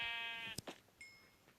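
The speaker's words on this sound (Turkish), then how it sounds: "Koyun." A Minecraft sheep bleats once, a drawn-out wavering cry lasting about half a second, then a few short thin electronic tones follow.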